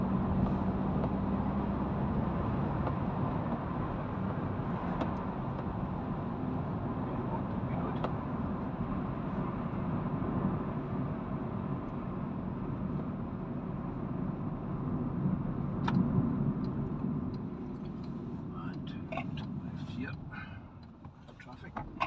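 A Hyundai i10 hatchback is driven hard at full throttle in fourth gear, its engine a steady droning hum inside the cabin with road noise, and someone speaks over it.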